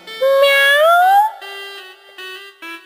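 A cat meows as a sound effect in a Russian children's audiobook of the turnip fairy tale, one loud rising drawn-out meow followed by a few softer, shorter mews, with no talk.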